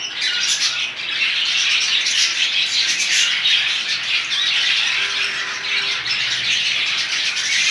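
Caged birds call continuously in a dense, close chorus of squawks and chirps, loud and busy with no pauses, and no talking over them.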